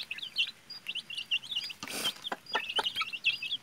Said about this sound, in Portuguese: Todas quatro são fêmeas. Mini galinhas.